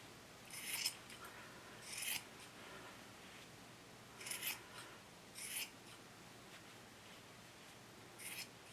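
Scissors snip yarn close by at a craft table, five or six short crisp cuts spaced a second or two apart over a quiet background.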